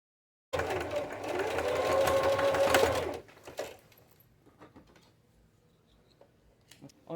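A sewing machine with a regular presser foot stitches a fabric pouch in a steady, fast whirring burst of about three seconds, then stops, leaving faint handling clicks and rustles.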